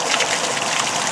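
Water pours steadily from the holding tank of a 2021 Salem 26DBUD RV trailer, a close, continuous broadband rush and splash with no pauses.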